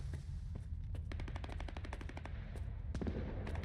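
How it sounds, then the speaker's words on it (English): Gunfire in the video game S.T.A.L.K.E.R. 2 as a lock is shot: scattered single shots, then a rapid automatic burst and a few final cracks over a steady low rumble. "If we shoot the lock, we can."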